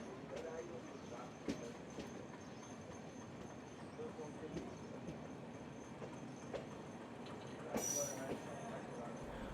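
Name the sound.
metre gauge train crossing bridge and entering station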